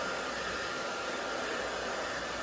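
Blow dryer running on its low setting while styling permed hair, a steady, even airy whir throughout, close and constant with no change in pitch or level and no talk.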